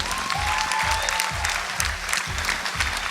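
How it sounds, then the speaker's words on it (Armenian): Steady audience applause fills a televised singing competition studio, a dense continuous clatter of many hands clapping with no voices over it. "Եկեք ծափահարություններով ոգևորենք"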